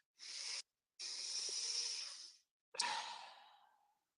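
Slow, deep breaths during a breathwork exercise, heard close and alone: a short inhale, a long airy exhale, then a sharp forceful breath that fades out.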